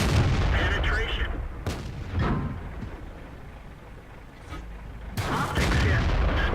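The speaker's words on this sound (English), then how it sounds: "The rate of fire on this tank is just so surprising." Jagdtiger 8.8 tank destroyer firing its main gun in a video game, heavy booms with a sharp blast near the start and a second burst late, separated by a quieter rumbling stretch with faint talk.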